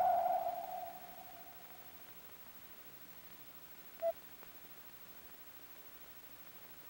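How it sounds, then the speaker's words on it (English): A hull-mounted sonar sends out a single bright ping that rings briefly and fades. After it come a couple of faint, short echo blips over a quiet hiss. "This echo is picked up by the transducer, which becomes a listening device between transmission pulses."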